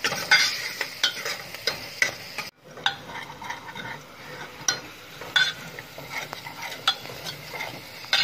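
Onion and garlic are fried in a pan until lightly pink, a crisp ongoing sizzle punctuated by repeated metal-spoon stirring and scraping, with a brief drop-out partway through.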